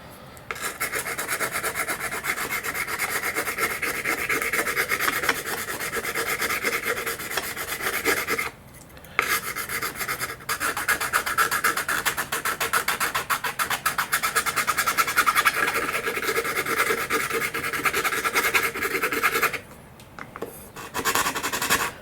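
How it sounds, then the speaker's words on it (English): Steady rhythmic rasping of a handmade sanding tool rubbed back and forth on wood, close and continuous, with two brief pauses. "just doing some sanding"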